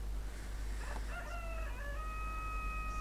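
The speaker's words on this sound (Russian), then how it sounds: "Петух провозгласил, что настало утро." A rooster crows once in the video game Block Story, a drawn-out cock-a-doodle-doo over a low steady hum, with a faint artificial, game-like quality.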